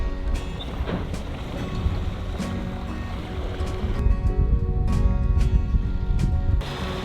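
Sailboat sailing close hauled under a blade jib in 16-knot wind, steady rushing wind and water wash with rhythmic creaks and knocks from the rigging, close and continuous.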